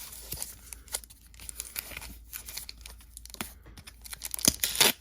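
Packing tape rips and crinkles as it is torn off a heavily taped mailed package of graded cards, in several close, sharp tearing bursts with crackly rustling between, loudest near the end.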